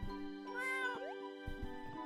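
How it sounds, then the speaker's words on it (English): A cartoonish cat meows in the video game Escape From Ever After, a short bright mew followed by a second rising cry, layered over steady game music with a chiming melody. "Another cat."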